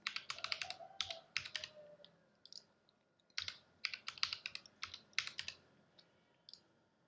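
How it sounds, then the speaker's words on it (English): Typing an email address on a computer keyboard: bursts of quick, close key clicks in irregular runs with short pauses, fairly quiet and with no talking. "Let's write Shegun@gmail.com"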